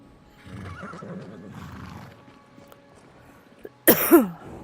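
A horse in Skyrim VR gives a sudden loud whinny near the end, preceded by quieter snorting and hoof sounds in a snowy winter setting, with no talking over it.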